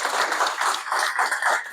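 Short burst of audience applause for the organisers of a real-estate networking event, steady close clapping for under two seconds with no voices.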